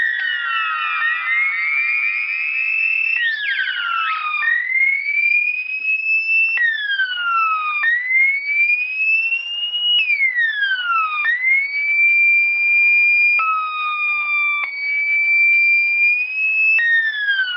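Homemade 555 timer dub siren played without modulation, a loud piercing electronic tone broken into a string of separate blasts, each sliding up or down in pitch, with no voices.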